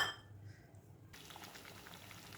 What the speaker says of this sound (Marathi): हे इथे पनीरला आता उकळी आलेली आहे